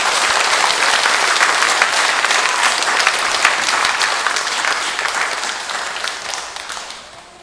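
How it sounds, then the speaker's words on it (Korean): A church congregation applauds to welcome the mother superior at her feast-day celebration during Sunday Mass, steady dense clapping that holds strong for several seconds, then thins and fades out at the end. "박수로 환영해 주십시오."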